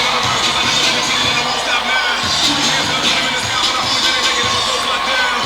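A home crowd cheers at a Dillard versus Xavier men's basketball game, a loud, sustained wash of shouting, whoops and applause filling the arena throughout.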